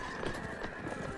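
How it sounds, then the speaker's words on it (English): A horse neighs over clip-clopping hooves in the Mount & Blade Warband battle game, the whinny and steady hoofbeats close and continuous through a short stretch of cavalry action. "Give me that horse."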